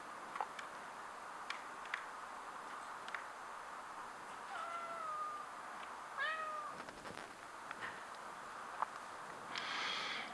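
Cat meowing in a room, several short rising cries spaced a few seconds apart, moderately close, over faint ticking and a low hum.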